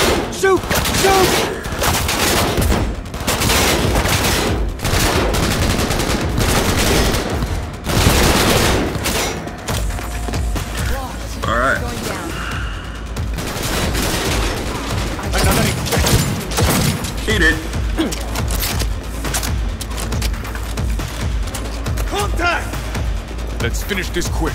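Dense gunfire in the game Cyberpunk 2077, rapid bursts and repeated close, loud shots that rattle continuously through the whole stretch, with shouted voices mixed in among the firing.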